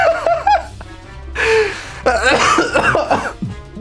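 A streamer in full gear coughs during a livestream, with sharp bursts breaking up nearby talk and brief chuckles. The coughs are loud and close to the microphone.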